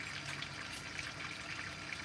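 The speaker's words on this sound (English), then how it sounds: "we're just going to put more water in" Water pours and trickles steadily into a cracked radiator, a soft hissing splash with no voices.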